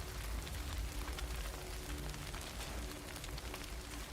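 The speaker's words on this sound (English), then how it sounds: "Ignore the rain." Rain falls in the video game Crimson Desert, a soft, steady hiss of downpour with low rumble filling the whole stretch without pause, heard quietly and alone.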